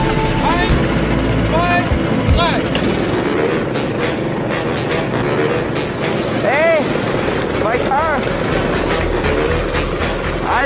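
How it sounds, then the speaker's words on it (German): Go-kart engines fire up one after another at a Mallorca kart track, a dense buzzing roar of small two-stroke motors revving and rising in pitch, with voices talking over the din. "Die Motoren werden der Reihe nach gestartet."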